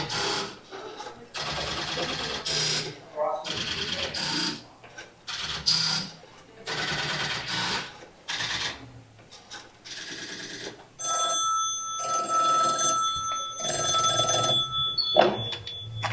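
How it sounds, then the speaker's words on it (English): An old rotary dial telephone runs through a sequence of whirring dial returns, each set of clicks split by short pauses. A bell-like ring follows and carries on to the end. "Using a dial telephone?"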